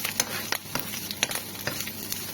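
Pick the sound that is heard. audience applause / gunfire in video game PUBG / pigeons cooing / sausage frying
sausage frying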